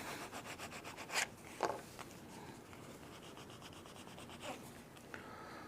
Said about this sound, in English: So there you go. My burnishing is complete. My edges are completely smooth.